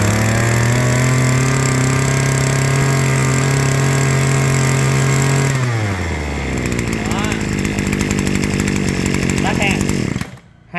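A four-stroke Japanese-made lawn mower engine runs close by, holding a steady high idle below full throttle, then its pitch drops and wavers as the revs shift, ending with a sudden cut-off.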